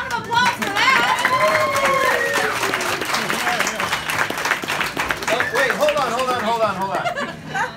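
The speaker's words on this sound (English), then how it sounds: "Round of applause for that." An audience at a bar and arcade ribbon cutting claps and cheers in a lively mix, with voices talking over it, some chuckling, and whoops rising above the steady clapping.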